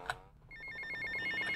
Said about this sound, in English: the phone keeps fucking ringing.